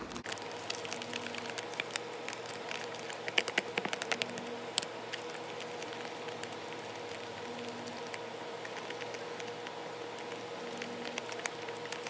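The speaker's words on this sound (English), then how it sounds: "I'm going to get mixing it up" Paper soaked in soap is stirred into a slime, giving a steady wet crackling and squishing with scattered sharper clicks, close up and continuous, with no talking.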